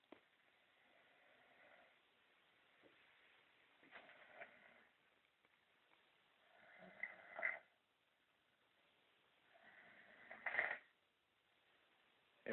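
A man snoring in his sleep at around four in the morning, with slow rasping, snorting breaths that rise in several swells spread across the stretch, fairly close but quiet.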